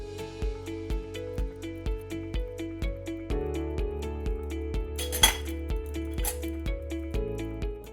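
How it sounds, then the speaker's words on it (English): Dressing being whisked in a bowl while olive oil is slowly added, a steady rhythmic clinking and tapping of a whisk against the bowl, close and fairly quiet, with a brief louder clink midway. "we're gonna slowly add 1/4 cup of olive oil in while whisking it"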